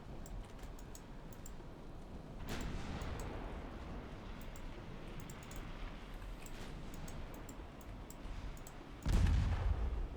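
Naval gunfire in the Ultimate Admiral Dreadnoughts warship game: a steady rumbling battle bed punctuated by distant booms around the middle, then a heavy, close low-end blast near the end, like a torpedo striking a ship.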